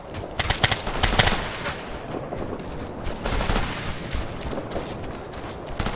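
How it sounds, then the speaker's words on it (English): Heavy gunfire in Operation Flashpoint: Red River, a military shooter game: dense, continuous bursts of rifle and machine-gun shots crack loudly and overlap for the whole stretch, with a few sharper peaks near the start. "We're taking heavy fire!"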